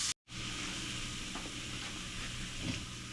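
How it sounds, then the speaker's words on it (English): Garlic sautéing in hot oil in a pan for shrimp pad thai, a steady close sizzle and hiss that runs almost unbroken after a brief silent gap at the start, with faint stirring scrapes. "You want to saute the garlic when it's lightly brown, because garlic will burn really quickly"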